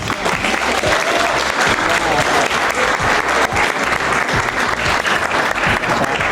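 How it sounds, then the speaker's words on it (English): An audience at a community family night and senior panel gives a loud, sustained round of applause, dense clapping continuing evenly throughout with faint voices mixed in. "Let's give them a round of applause."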